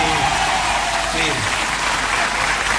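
Studio audience of a live radio comedy show bursts into sustained applause, a thick, even wash of clapping that holds at full strength throughout, with a faint voice underneath.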